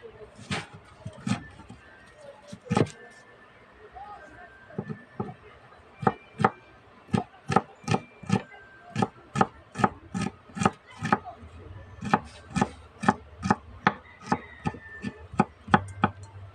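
Food for kilaw being chopped on a wooden board, a series of sharp knife knocks, sparse at first and then falling into a quick, fairly regular rhythm close by, with faint voices and background rumble under the strikes.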